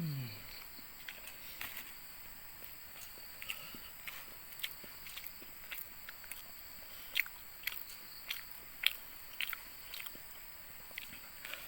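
Someone chewing a spicy pork burger makes faint, close, wet bites and mouth clicks, scattered irregularly over a quiet background.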